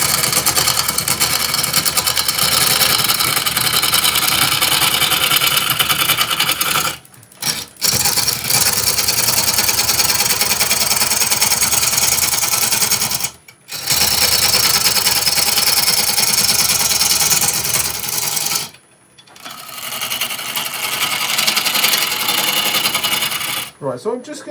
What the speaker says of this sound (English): I think we can turn the speed up a little bit. The lathe will tell me if it's had enough.